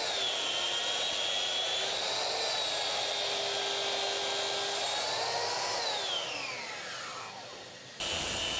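A Bosch saw fitted with a fine-tooth TCT blade cuts through wooden dividers for an entertainment cabinet, giving a loud, steady whine that holds for about six seconds, then falls in pitch as the blade winds down before a brief cut-off.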